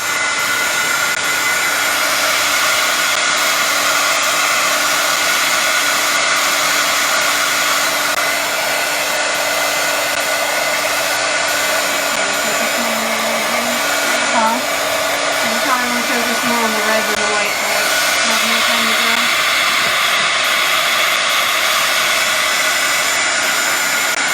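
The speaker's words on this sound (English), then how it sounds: "I'm going to throw a little bit of heat on it with my heating tool." A handheld heat tool blows hot air onto an inked hat, a loud, steady whooshing drone that runs unbroken for the whole stretch, close by with no talk.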